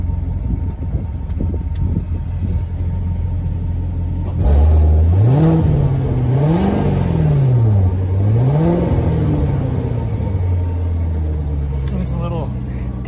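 A 2017 Chevrolet Corvette Grand Sport, a branded-title car with prior front-end impact damage, idles with a deep rumble that swells into three rising and falling revs before settling back to a steady idle, loud and close.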